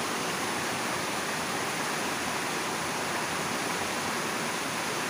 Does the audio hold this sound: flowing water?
yes